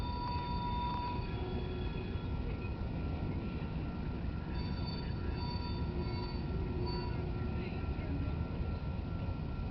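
A BNSF manifest freight train on Union Pacific track rolls steadily past a road crossing at Griggs Rd and Long Dr, with a continuous rumble and faint squealing wheels.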